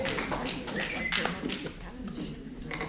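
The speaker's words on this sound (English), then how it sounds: "Please do not clap except at the end of the speech." Scattered clapping rises from a small audience at a candidate forum for a Democratic club in Aurora, Colorado, a handful of hands striking irregularly at moderate distance, fairly faint, with voices murmuring underneath.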